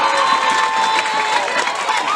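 A crowd at a school-supply handover ceremony for pupils in Tokoin Wuiti applauds in a loud, steady wash of clapping, with faint cheering and murmuring voices mixed in throughout.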